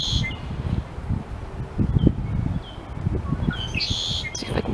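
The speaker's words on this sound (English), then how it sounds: "I got myself a little red wing blackbird." A red-winged blackbird sings in a wildlife refuge, with several short whistled calls and chirps over steady low outdoor background noise.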